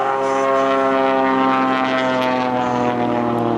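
A Waco biplane, the Mystery Ship, roars loudly and close through an aerobatic aileron roll at an air show, its engine and propeller giving a steady droning tone that shifts slightly in pitch.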